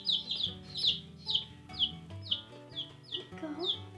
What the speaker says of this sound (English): we decided to get 2 Buff Orpington chicks.